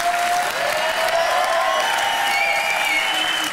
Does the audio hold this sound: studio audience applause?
yes